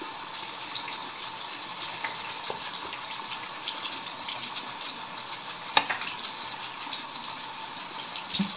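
Water runs steadily from a tap to wet an item being washed with soap, a constant close splashing hiss throughout with a few small knocks. No voices.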